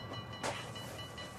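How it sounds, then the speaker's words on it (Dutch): A train rumbles through a tunnel beneath a waterway used by ships, a steady low hiss with a brief louder swell near the middle, fairly faint and with no voices. "38 keer per dag gaat er een trein onder de schepen door."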